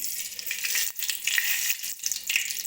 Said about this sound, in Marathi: तेल गरम झालेलं आहे आता मी याच्यामध्ये मोहरी टाकून घेते